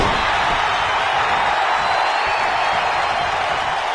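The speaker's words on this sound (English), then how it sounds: "Listen to this crowd." A dense crowd roars continuously at a WWE 2K19 wrestling match, a steady wash of cheering crowd noise at an even level throughout.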